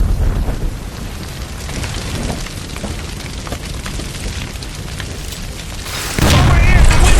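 A gas line blows up in the LA Noire video game: a steady rushing roar like heavy rain builds for several seconds, then one loud, close blast bursts near the end.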